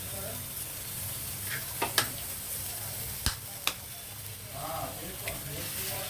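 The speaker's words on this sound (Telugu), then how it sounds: "ఇప్పుడు మనం గుడ్డు పగలగొట్టి దీని మీద ఇలా వేసేద్దాం" An egg hits a hot pan spread with onions and sizzles softly, with a few sharp clicks and taps scattered over the low frying hiss.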